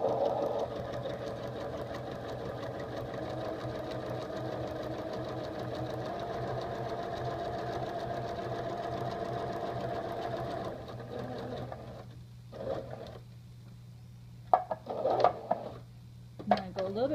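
A sewing machine stitches torn newspaper pieces, running in a fast steady mechanical chatter for about eleven seconds, then stopping, followed by a few short bursts of stitching and handling noises.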